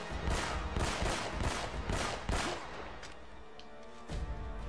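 Rapid volleys of gunshots in Uncharted: Drake's Fortune Remastered, a dense run of sharp repeated reports that thins out and then returns with a single late burst.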